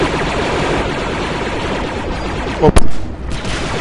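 Gunfire in the Star Wars: Republic Commando video game, a dense continuous fusillade of rapid shots up close with one louder blast near the end, and a brief exclaimed word from a voice.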